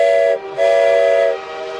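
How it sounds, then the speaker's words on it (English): A torpedo warning alert blares during a live stream, a loud tonal whistle-like siren in two pulses, a brief break, then a longer blast fading to a softer tail. "So Kyle's on with the torpedo warning sound"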